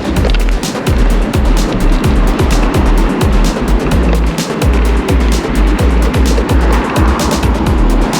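An electric go-kart drives fast on a wet, icy surface, giving a loud, continuous rush of tyre and road noise with a steady run of low thumps as it bumps along. No talking.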